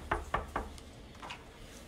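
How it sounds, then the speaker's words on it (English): Three crisp knocks on a door at a pediatric heart center, evenly spaced and close, followed by a quiet room tone with faint distant sounds. "we're going to knock."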